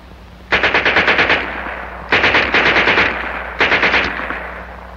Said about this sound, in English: And here's their Schmeisser.